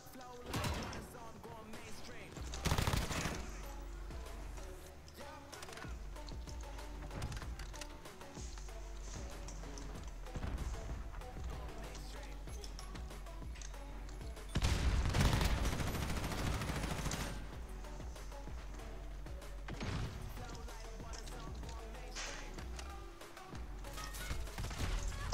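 Rapid gunfire bursts from a Call of Duty match in a realism mode, crackling through a steady game soundscape with a dense, louder volley midway, while players talk over it.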